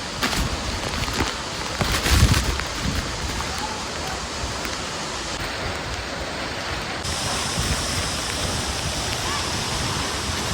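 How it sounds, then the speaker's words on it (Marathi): A roaring 350-foot waterfall at Shitkada runs swollen with rain, its water crashing down in a loud, steady rush that fills the whole stretch without a break. "वरून फुटावरून पाणी आल्यावर खाली कसं धुवा धुवा होतोय"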